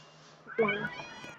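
A cat gives a single short meow, close and clear, after a brief low hum.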